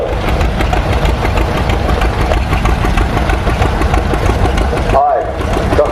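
A John Deere 38B tractor engine with round-spoke rear wheels runs steadily and fairly loud throughout, a dense mechanical din at an outdoor show, briefly dipping near the end.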